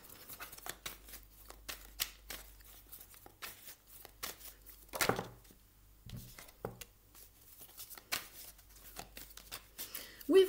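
Tarot cards are shuffled and drawn, giving a string of soft, close paper flicks and slaps with brief pauses between them.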